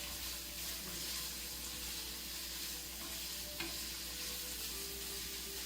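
Egg broken into small pieces fries in a pan for egg foo young, giving a steady, close hiss of sizzling oil with a single sharp click partway through.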